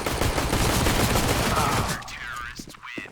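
Rapid Glock pistol fire in a Counter-Strike match on the map Cache, a dense, loud burst of overlapping shots with game noise for two seconds before it thins out, under a caster's fast commentary.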